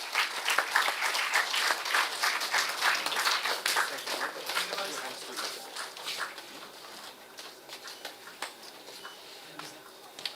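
Audience at a student valedictory function for an induction programme bursts into steady, dense clapping that fills the hall, tapering slightly in intensity toward the end, with scattered individual claps standing out.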